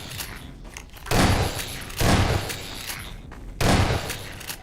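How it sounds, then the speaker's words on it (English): Gunfire in Half-Life 2, three loud bursts of shots spaced about a second apart, each punchy and booming, with quieter game ambience between them. "Wait, why am I shooting them?"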